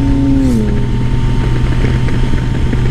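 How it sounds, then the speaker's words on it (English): A motorcycle engine while riding gives a loud, steady low drone with a rushing wind-like roar throughout, and a brief tone sliding downward near the start. "the sound of the engine"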